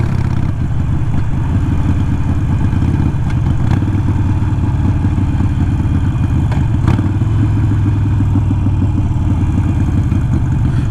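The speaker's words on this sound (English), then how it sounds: "For those of you that say that I don't engine brake or rev match, boom, like there you go." A motorcycle engine rumbles steadily up close from a helmet-mounted mic as the rider engine-brakes and blips the throttle to rev-match on downshifts, with a few brief shifts in pitch.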